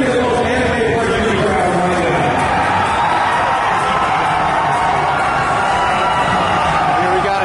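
Large crowd at a Gamestop Expo 2015 gaming event cheering and shouting continuously, a loud, dense roar of many voices filling the space throughout.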